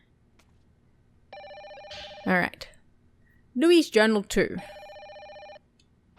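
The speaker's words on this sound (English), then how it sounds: "that phone have to keep ringing?" In the video game Fatal Frame 5, a telephone rings in repeated electronic bursts that sound steady under a person speaking, with pauses between rings.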